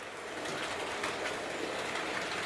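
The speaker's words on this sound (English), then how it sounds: "our locomotive just slowed a fraction" A small Terrier locomotive on a model railway runs along the track with a steady, close whirring and rolling rattle, without any talking.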